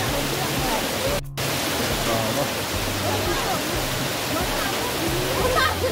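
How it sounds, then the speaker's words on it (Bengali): Waterfall at Bamni Falls in Purulia, water streaming down from a hilltop, giving a steady, continuous broadband rush that stays constant throughout with a brief dip near the start. "পাহাড়ের ওপর থেকে সুন্দর ঝর্ণা নেমে আসছে।"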